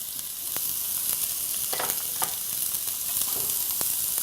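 Olive oil sizzles in a pan with onions, a continuous bright hiss punctuated by several short scrapes and stirring taps.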